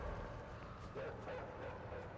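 Dogs in the video game INSIDE yip and bark in short bursts under steady background noise, with someone talking over them.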